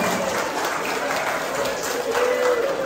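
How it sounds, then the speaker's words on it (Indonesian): Applause from wedding guests at a church marriage blessing, a steady dense wash of many hands clapping at moderate loudness throughout, with a faint tone drifting underneath. "Mari kita berikan tepuk tangan dulu yang meriah buat kekasih kita."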